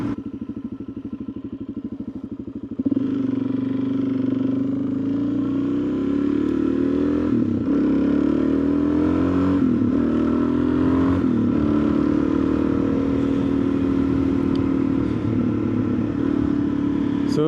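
An adventure motorcycle engine idles, then revs loudly and pulls hard through rising and falling gears while being ridden, close and constant.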